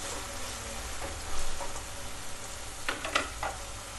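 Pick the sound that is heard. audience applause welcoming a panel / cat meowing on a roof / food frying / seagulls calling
food frying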